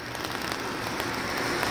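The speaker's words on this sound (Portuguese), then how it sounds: "Caindo aquela chuva especial" Rain falling at Pedra do Navio, a rock formation in Bom Jardim beside the PE-088 road, heard as a soft, dense, even hiss of drops with no voices over it.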